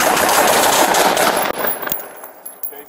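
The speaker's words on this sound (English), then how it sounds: "shots fired" Police officers fire a rapid burst of gunshots at close range, loud cracking reports in quick succession, then a few fainter trailing shots and noise as the burst dies away.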